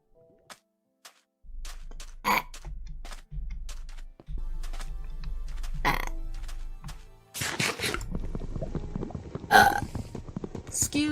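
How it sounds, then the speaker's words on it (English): A string of short and drawn-out burps, some loud and some faint, comes one after another between sparse keyboard clicks and soft thumps, with a voice speaking briefly between them. "One more burp."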